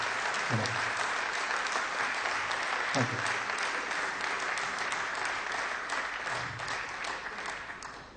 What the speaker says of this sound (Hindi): आप सबसे अनुरोध है कि जोरदार तालियों से उनका स्वागत करें।